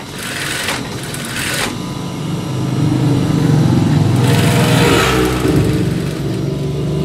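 A sewing machine stitching a fabric lining onto stiff interfacing, running loud and close in steady bursts with a brief pause, its motor whirring at an even pace.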